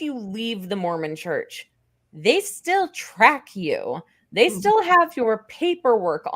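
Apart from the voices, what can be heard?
None of the usual background noises is heard.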